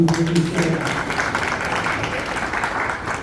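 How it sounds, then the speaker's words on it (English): An audience at a talk on mental health and spirituality gives a steady round of applause, a dense wash of many hands at moderate loudness, with a voice briefly heard at the start. "Please give a big round of applause one more time."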